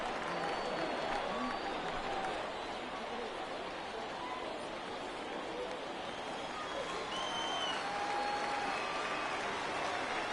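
A large crowd at a Rays versus Blue Jays baseball game roars steadily after a long foul ball, a dense sustained cheer and hubbub that stays loud throughout.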